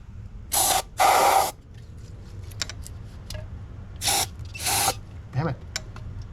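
Several sharp hissing bursts of brake cleaner aerosol spray into a car engine, two long blasts then two more, with short spurts between and faint clatter in the background.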